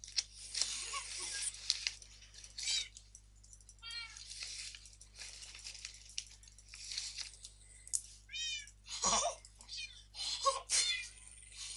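A house cat meows several times in short rising and falling calls, fairly close, spread across quiet moments with a faint steady hum beneath and occasional soft noises.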